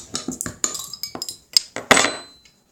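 A beer bottle of Saison Voisin with a plain orange cap is handled and opened close up, giving a rapid series of sharp glass clinks and metallic taps, followed by a slightly longer ringing clink.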